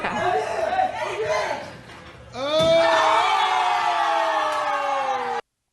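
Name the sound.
crowd stirring in a played clip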